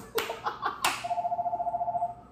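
A telephone rings with a fast, steady electronic trill that starts after two sharp slaps or claps and continues close and clear to the end.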